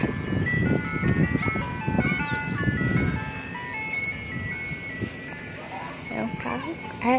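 An ice cream truck's musical jingle plays outdoors on a street, a loud, clear melody with a motor running beneath it, while people talk over the first few seconds.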